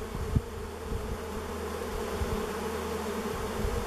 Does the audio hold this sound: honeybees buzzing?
yes